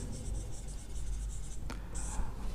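Pen or pencil writing by hand on paper during an English grammar lesson, a steady soft scratching close by with a brief sharper stroke near the end, no talking.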